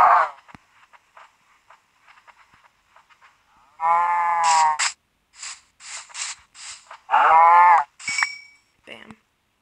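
Minecraft cow lowing in a game, two drawn-out moos close by, with scattered clicks and short game sound effects in between and a player talking in places.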